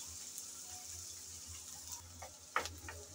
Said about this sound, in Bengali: এখন নেড়ে চেড়ে পেঁয়াজ রসুন হালকা করে ভেজে নেব।